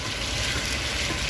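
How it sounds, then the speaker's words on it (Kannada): Chicken pieces with onion, tomato, chicken masala and garlic paste frying in hot oil in a pan, a loud, steady close sizzle with no talking. "ಎಲ್ಲ ಫ್ರೈ ಆಗ್ತಾಯಿದೆ ಇವಾಗ."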